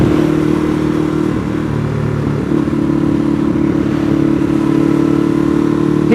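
A Ducati Hypermotard 821 motorcycle rides along at a steady engine drone with a brief dip and rise in revs, heavy wind rumble throughout and no voices.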